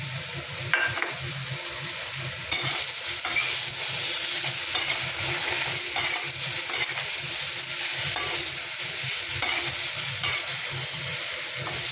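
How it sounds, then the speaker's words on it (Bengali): Chili and cumin spice paste frying in a pan for catfish curry, stirred steadily with a spoon, giving a continuous close sizzle broken by repeated scraping strokes. "নাড়াচাড়া করছি, একটু নাড়াচাড়া করে একটু জল দিয়ে দেব মশলাটা কষানোর জন্য"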